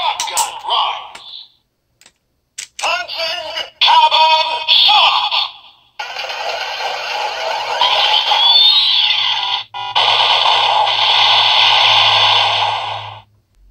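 A Kamen Rider Zero-One DX Attache Shotgun toy plays electronic firing sound effects: bursts of synthesized blasts, whooshes and a long charged buzzing tone, loud and close, separated by short silences.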